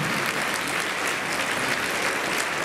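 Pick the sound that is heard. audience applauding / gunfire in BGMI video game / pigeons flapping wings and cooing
audience applauding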